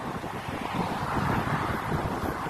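Strong wind gusts along the Jeddah waterfront by the sea, a loud continuous roar of microphone buffeting with surf beneath, swelling toward the end, no voices.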